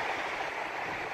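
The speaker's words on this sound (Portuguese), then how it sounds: "Esse mar imenso." Broad, steady wash of sea waves rolling onto a beach, a constant surf roar with no distinct breaks, fairly loud and alone.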